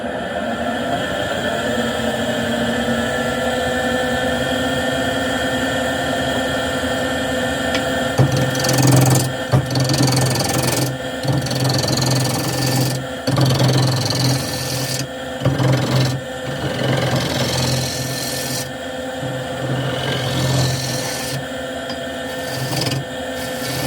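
A wood lathe roughs out the corners of a wood blank, giving a continuous motor whine with intermittent scraping and chattering cuts as the gouge bites the spinning corners.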